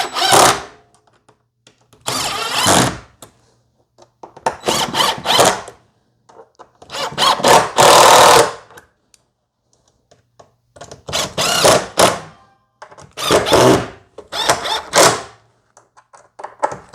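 Short bursts from a compact DeWalt 12 volt screw gun driving screws, about eight separate runs of a second or so each, close and loud with brief quiet gaps between them.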